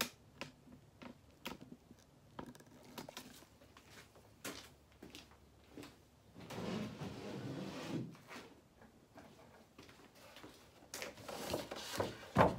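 Wooden drawers of an antique dresser sliding open and shut, giving a series of sharp knocks and clicks scattered across the span, with a longer scraping rumble midway and another near the end.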